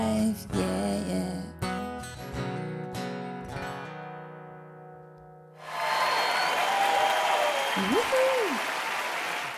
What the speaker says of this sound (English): every single time we play a song, there's this audience that starts clapping